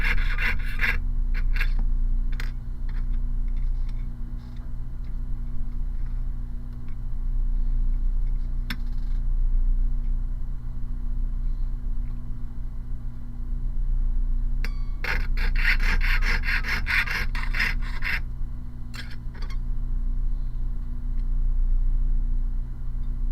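Metal sheet being hand-sawn for a gemstone pendant, with rasping strokes in short bursts that cluster most thickly near the end, over a steady low hum.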